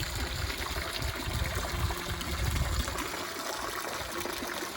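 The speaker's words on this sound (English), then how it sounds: "I could just stand here and look at the detail all day and listen to this fountain." Steady trickling and splashing water from a fountain with a figure holding two geese spouting water at a manor, a soft continuous flow heard up close with no one talking.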